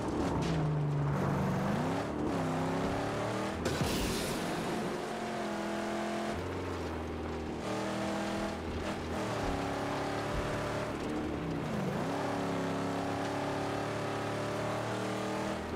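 A car drives in the Mad Max video game on PS4, its engine revving and shifting through gears in rising and falling sweeps, loud and close, with brief crashes and thuds between accelerations.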